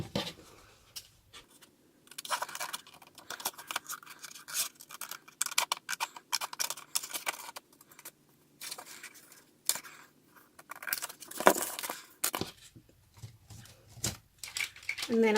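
Paper being cut with scissors for a folio craft, a string of close, soft snipping and rustling strokes in irregular bursts with brief pauses, no voice over it.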